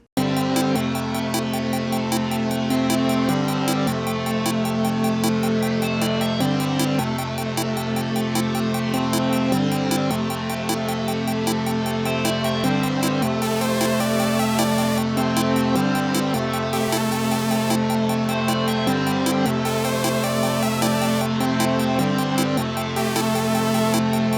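A full electronic beat loop plays continuously, dense and steady with a repeating pattern and periodic bright hi-hat or cymbal bursts.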